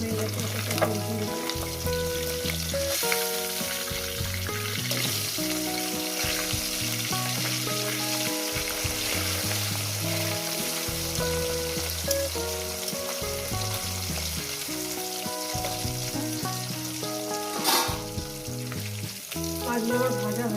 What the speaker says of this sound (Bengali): মাছগুলো আমার ভাজা হয়ে গেছে, মাছগুলো উঠিয়ে নেবো।